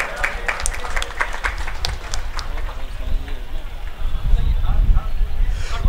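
A crowd at an Independence Day 2022 flag-hoisting ceremony in Dhanbad applauds the parading platoons with steady, dense clapping that swells louder near the end, with voices mixed in.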